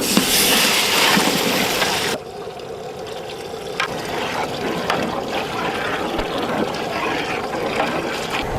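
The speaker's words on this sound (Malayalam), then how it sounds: "അടുത്ത് നമുക്ക് ഇതിന് വെള്ളം കൂടെ ഒഴിച്ചു കൊടുക്കാം" Water pours steadily into a cooking pot of chicken noodles with spices, a loud splashing stream that softens into a lighter, continuous trickle.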